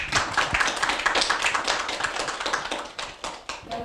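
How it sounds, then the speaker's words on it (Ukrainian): Studio audience applauding a Kherson city council secretary, steady dense clapping held at an even level for several seconds before tapering slightly. "Оплески."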